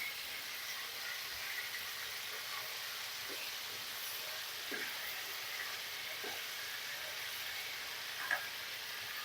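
Ground beef patties sizzle and crackle steadily in hot oil while being deep-fried, a soft continuous frying hiss with occasional small pops.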